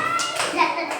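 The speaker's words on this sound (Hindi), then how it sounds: "वेरी गुड, ताली बजा दो सब लोग।" A classroom of children claps hands, a brief burst of a few sharp claps mixed with children's voices, close and moderately loud.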